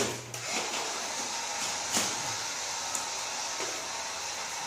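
A heat gun blows steadily as it warms 3M vinyl wrap on a 2007 Subaru STI, a constant airy whoosh with a few faint clicks and handling knocks.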